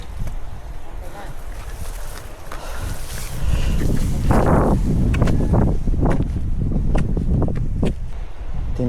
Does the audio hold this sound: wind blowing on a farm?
yes